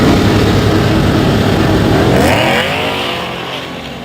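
A car doing a burnout at a street race track, its engine roaring loud and close with a sustained high rev that holds for a couple of seconds before the pitch sweeps and the noise fades away.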